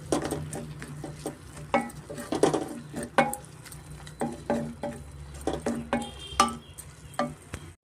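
White pumpkin halwa being stirred in a pan, with a spoon scraping and patting in irregular strokes over a low steady background hum, close and moderately loud, with no talk.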